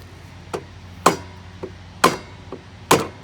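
Metal starter of a ride-on lawn mower struck sharply to free a stuck solenoid: five distinct knocks spaced about half a second apart, alternating lighter and heavier blows, close and clear with no talk.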